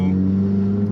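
An Audi S3 8V with a freshly tuned ECU gives a brief sustained engine drone with a steady low rumble, close and fairly loud, with no distinct crackles standing out.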